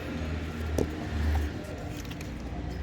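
A Renault Megane 1 engine idles close by with a low, uneven rumble and a sputtering puff of leaking exhaust gas; no one speaks.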